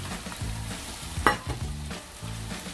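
Minced mutton sizzling and crackling in a hot pan, a steady fry with a few scraping stirs, close and moderately loud.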